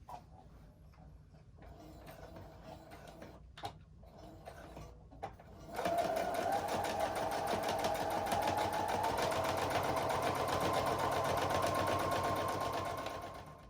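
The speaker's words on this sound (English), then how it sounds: "Okay, so that is finished with the quilting part." A sewing machine quilts a fabric mat: light ticking and shuffling at first, then a steady, loud mechanical whirr with rapid needle chatter running continuously until it slows at the end.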